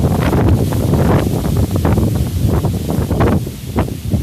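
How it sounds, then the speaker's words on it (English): Outdoor wind buffets the microphone with a loud, continuous rumbling roar and some rustling, with no clear voices. "I'm just waiting for the breeze or the wind to simmer down just a little."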